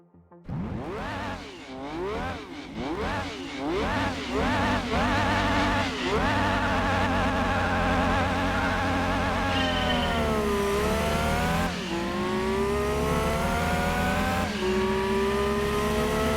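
A race car engine in Gran Turismo 2 at Red Rock Valley Speedway revs repeatedly in rising and falling sweeps, then holds a loud, sustained high-pitched whine as it accelerates, close and dominant.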